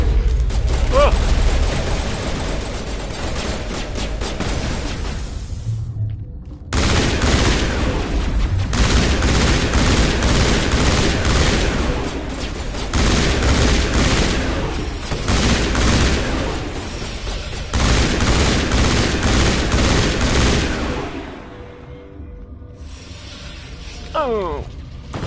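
Firefight in the shooter game Mass Effect: loud, sustained rapid weapon fire and booming impacts roll on for long stretches, broken by brief pauses, with voices speaking under the gunfire.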